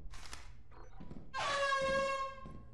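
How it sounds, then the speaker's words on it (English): In the video game Lethal Company, a loud air horn blasts once for about a second, a bright tonal honk following a few soft thumps and faint handling noises. "Got air horn."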